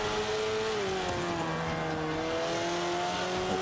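Race car engine in Forza 5, a steady sustained drone with shifting pitch as the car is driven through corners, loud and continuous throughout with no talking.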